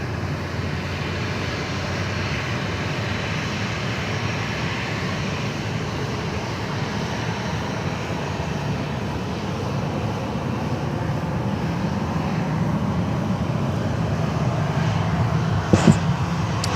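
An airliner taxis at Sydney Airport, its jet engines giving a steady, broad rumbling roar that stays loud and even throughout, heard from outdoors at a distance.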